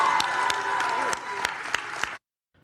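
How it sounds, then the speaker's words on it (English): An audience in Greenville, South Carolina, applauds after a speech, a dense wash of clapping with a voice over it, cutting off abruptly into silence. "I am so surprised that they actually applauded that."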